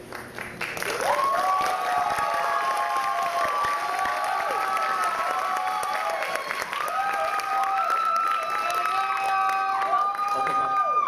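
A ship-board talent show audience applauds and cheers after a performance, a dense sustained wave of clapping with rising shouts and whistles lasting throughout.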